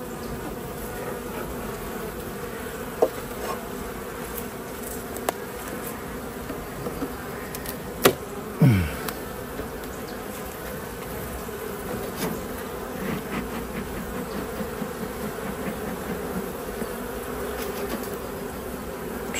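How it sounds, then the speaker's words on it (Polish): Honeybees swarm around an open hive in a steady, dense buzz that fills the whole stretch, with individual bees droning close past now and then and a few faint knocks beneath. "Pszczoły widzę, że bardzo rozbiegane."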